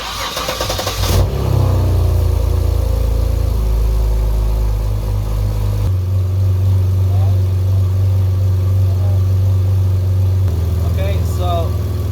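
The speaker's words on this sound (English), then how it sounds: "just put it in drive and get it as little gas as he can and have it try to run through a few gears" A 2006-2011 BMW 328i engine runs steadily with low, continuous drone, stepping in pitch and load as light throttle is applied through the gears, with voices talking over it at times.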